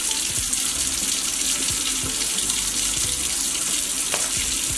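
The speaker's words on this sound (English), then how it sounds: "What you're going to do is have the water run for a little bit." Water runs steadily from a tap into a sink, a constant close splashing hiss that lasts throughout with no pauses.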